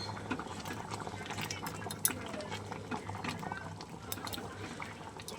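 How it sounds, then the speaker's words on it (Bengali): Moong dal cooked with bottle gourd leaves bubbles in a pot, a soft, continuous, low-level simmering burble with a few faint pops in a quiet kitchen. "দেখো বেশ সুন্দরভাবেই ফুটে গেছে।"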